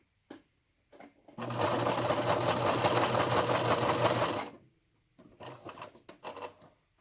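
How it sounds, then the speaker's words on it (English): A sewing machine stitches in a zipper, running steadily for about three seconds between brief softer starts and stops, close and clear with no talk. "and we continue sewing."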